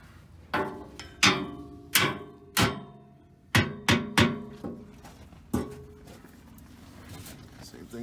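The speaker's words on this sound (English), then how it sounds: "Grab this hammer and smack it over." Sharp metallic hammer blows ring out against an RV crossmember, about nine strikes in uneven bursts, each clang decaying quickly, close by.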